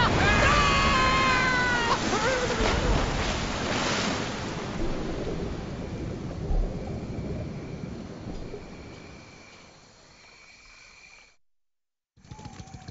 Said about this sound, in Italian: Sembra rumore di acqua. Il rumore si fa sempre più forte. Vi è una cascata!